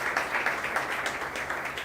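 A small indoor audience at a question-and-answer gathering applauds briefly, a soft, scattered burst of hand clapping at modest volume with no talk over it.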